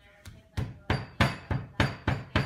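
A hammer pounds Oreo cookies repeatedly in a steady rhythm, about eight sharp, loud blows in quick succession, close up, with no voices.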